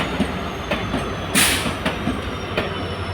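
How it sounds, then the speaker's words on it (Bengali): Rhythmic clickety-clack of train wheels over rail joints from an ICF coach on an express train, with a rumbling carriage, a steady hum and a brief hiss in the middle. "এই আইসিএফ কোচের এই আওয়াজ মারাত্মক লাগে"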